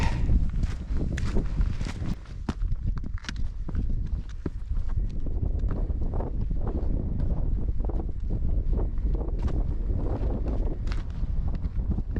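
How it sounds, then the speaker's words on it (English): Steady wind gusts buffet the microphone on the exposed hilltop at the Roaches trig point in Staffordshire, producing a constant low rumble that swells and dips with faint crunching steps throughout; no one speaks. "A bit windy though, you can probably hear."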